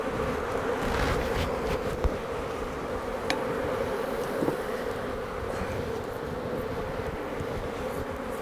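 Honeybees swarm around an opened beehive at an apiary, a dense, loud, continuous buzz with a few sharp clicks and knocks from handling the frames, no speech.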